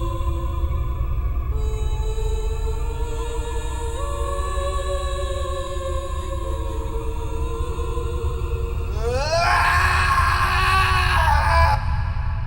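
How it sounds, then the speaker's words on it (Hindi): A man screams in fear in the Japanese horror film Kairo, a sustained wailing cry over a loud droning score that swells and brightens near the end. "याबे डर के मारे चिल्लाता है"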